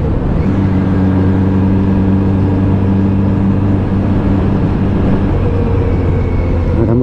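A Kawasaki Z900 RS motorcycle engine drones steadily with a deep intake airbox hum while riding, a loud continuous tone that shifts pitch slightly as revs change, with wind rush in the background.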